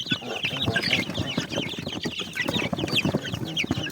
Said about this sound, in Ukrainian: Куди півень?